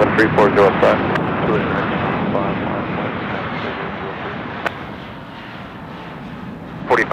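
Airliner taking off at Chicago O'Hare International Airport, a broad, steady engine roar that starts loud and gradually fades, with brief clicks near the start and end.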